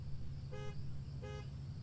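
Horn of a Mazda RX-7 in Car For Sale Simulator 2023, sounded as two short, evenly spaced honks, fairly faint, over a steady low engine hum.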